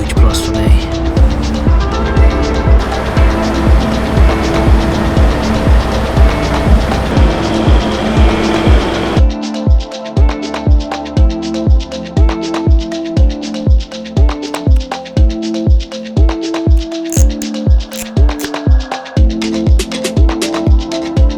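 Loud traffic beside a busy road, with passing vehicles and engine noise; the second half turns into dense, regular percussive thumps that sound like music blending with the roar of cars.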